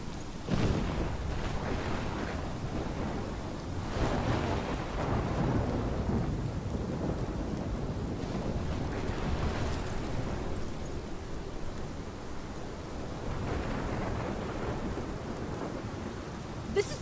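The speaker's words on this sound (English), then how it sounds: "My storm!" Thunderstorm with heavy rain in the video game Life Is Strange: dense, steady rain hiss with rolling, rumbling thunder swelling several times over a loud, continuous wash, without speech.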